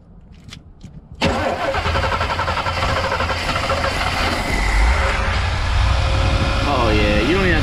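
A 4WD vehicle's engine cranks briefly, then catches and settles into a loud, steady idle close by, with a faint whine rising near the end.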